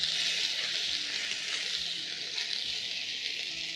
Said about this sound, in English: Immediately the lamb chops hit the hot pan